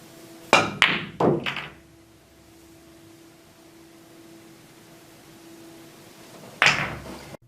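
Pool cue strikes on a billiard ball for a draw shot that pockets the ball: two sharp knocks close together near the start, a quiet stretch with a low steady hum, then one more solid knock near the end.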